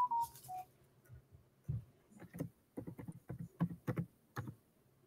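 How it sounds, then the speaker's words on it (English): Typing on a computer keyboard: a run of quick, uneven key clicks, faint and close, starting after two short electronic beeps and with no talk over it. "It helps if I'm typing in somewhere."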